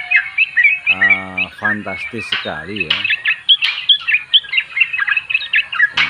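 A hand-held sooty-headed bulbul chirps and warbles in quick, bright bursts close by, with some lower squawking calls early on, while someone speaks over the birdsong.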